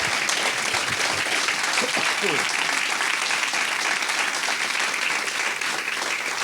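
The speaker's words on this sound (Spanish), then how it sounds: "aplaudirle a Jesús" Steady, dense applause from a church congregation fills the whole stretch, a continuous wash of many hands clapping at even loudness.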